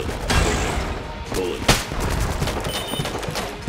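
Bullets from Exit the Gungeon fire in rapid, loud bursts with sharp cracks and rattling volleys, keeping up a busy, continuous barrage.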